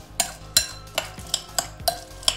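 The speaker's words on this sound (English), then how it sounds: "now I'm gonna take my spoon, stir it all up" A spoon stirring chocolate chips coated in oil, scraping and clinking against the bowl in a steady series of about eight close, sharp strokes roughly a third of a second apart, with no talking.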